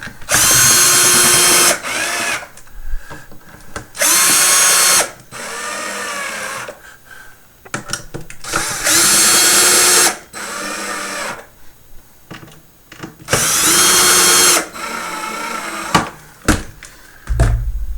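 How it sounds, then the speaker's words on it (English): Power drill driving screws into the back panel of a tweed 5E3 guitar amplifier, heard in four loud whirring bursts separated by pauses with faint clatter between them. "I'm gonna throw our back panel back on there, like this. Screw this down."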